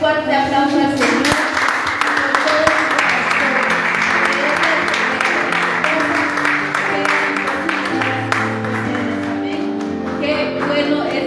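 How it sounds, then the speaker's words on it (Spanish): Church congregation clapping for the Lord during a service, steady applause sustained throughout, mixed with music and voices in the background. "dale un fuerte aplauso al Señor"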